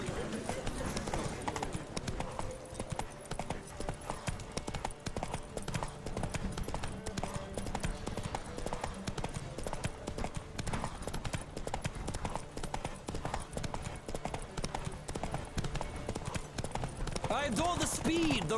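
Horses gallop in The Witcher 3 with a continuous clip-clop of hooves running under game music and talking voices, holding steady and loud throughout.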